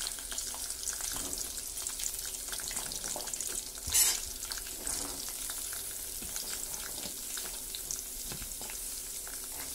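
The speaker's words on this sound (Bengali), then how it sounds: "এরপর বাকি যে সবজিগুলো আছে সেগুলো একটা একটা করে ভেজে নিই।" Vegetables frying one by one in leftover fish-frying oil for a light singhi fish curry; a steady, close sizzle runs throughout with a brief louder hiss midway.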